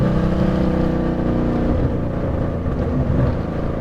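A Ford Mustang GT fitted with loud headers rumbles up close, a deep, heavy engine drone that rises and falls slightly as it revs.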